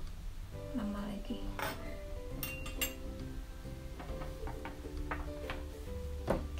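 A knife chopping lemongrass and other ingredients on a cutting board in a home kitchen, with irregular close taps and light clinks of utensils and dishes.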